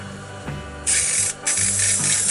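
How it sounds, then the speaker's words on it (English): Black spray paint hisses from an aerosol can into a lid in two close, loud bursts with a short pause between them, over a faint low hum and no talking. "all I'm doing is spraying into this lid that I got here, just spraying black in there"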